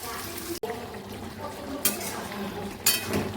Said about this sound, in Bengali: কিছুটা পরিমাণে জল দেব তারপরে শুটকি মাছগুলো এর মধ্যে দিয়ে দেব